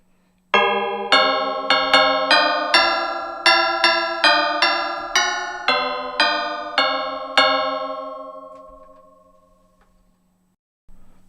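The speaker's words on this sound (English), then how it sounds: "where you punch batons to sound the bells" A melody picked out on bright chromatic bells struck by a baton keyboard, about a dozen clear struck notes in steady succession, the last one ringing out and fading slowly.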